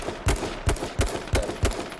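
Five sharp, loud gunshots from the video game H1Z1, fired at slightly irregular intervals about a third of a second apart, each with a short decaying tail and no voices.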